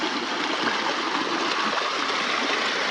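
Water rushes steadily out of a fish pond through a channel broken open, a dense, continuous gushing stream close by with no pauses.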